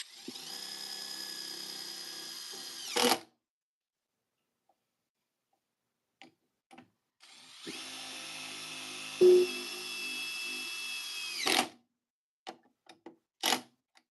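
A power drill drives 4-inch timber lock screws in two long whining bursts of a few seconds each, separated by quiet, with a few short clicks and brief spurts of the tool near the end.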